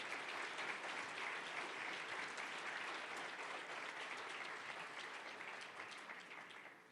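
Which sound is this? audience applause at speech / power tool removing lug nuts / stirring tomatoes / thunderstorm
audience applause at speech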